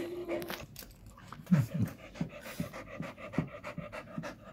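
A tired dog pants in quick, rhythmic breaths close to the microphone, with a few soft whimpering sounds between the gasps.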